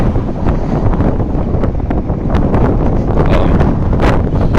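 Heavy wind buffets the microphone, producing loud continuous rumbling and gusty bursts with no clear voice.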